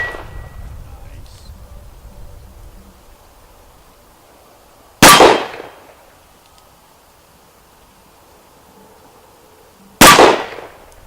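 Two sharp, loud gunshots from a Smith and Wesson Model 10-5 revolver crack about five seconds apart at an outdoor range, each followed by a short ringing decay, with faint talk at the start.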